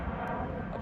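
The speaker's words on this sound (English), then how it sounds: "Got another plane rolling by." An airplane rolls past under a clear sky near the beach, a faint, steady engine drone that holds evenly through the short moment.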